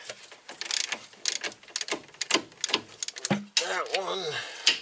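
A ratchet loosens bolts on a 2001-06 Hyundai during brake rotor replacement, clicking in rapid bursts at close range amid clanks and handling noises.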